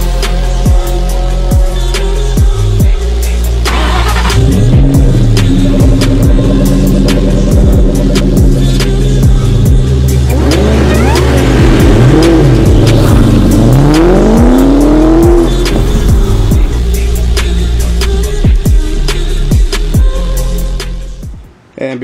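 A sports car engine, a Terminator Cobra with a Borla Stinger S-type catback exhaust, revs hard and roars continuously, with rising and falling exhaust pitch and crackling bursts, loud and close throughout.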